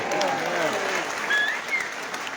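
A crowd at an outdoor political rally claps in a dense, sustained burst of applause, with scattered cheers and a few whistles mixed in.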